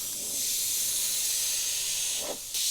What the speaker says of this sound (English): I like to rest my airbrush on my hand, pulling back a little bit and just testing to see how it sprays dots